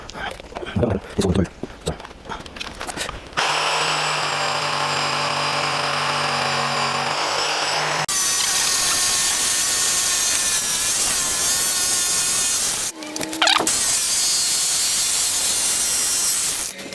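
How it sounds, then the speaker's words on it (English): Jigsaw cutting through a wooden bookshelf board, a loud steady buzzing whine that runs for several seconds, breaks off briefly and starts again, after a stretch of handling noises at the start. "My jigsaw is leaving a filthy mark here."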